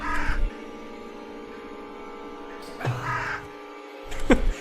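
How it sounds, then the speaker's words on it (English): Ravens cawing in The Last Door video game, harsh calls coming in three separate bursts at the start, middle and end over a low droning background. "I don't know how I feel about being looked at by ravens."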